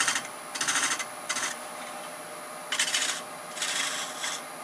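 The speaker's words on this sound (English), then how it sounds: "I think I'll take a detail gouge," A detail gouge scrapes in short, rhythmic bursts as it trims the corners off a wooden kitchen canister spinning on a lathe, with a faint steady motor whine between the cuts.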